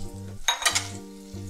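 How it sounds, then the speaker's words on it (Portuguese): Onions frying in hot olive oil in a pan give a loud, broad sizzle that swells as they go in, with a low steady hum and stirring clatter around it and no talk. "Agora eu acho que o azeite está quente e eu vou colocar as cebolas para fritar"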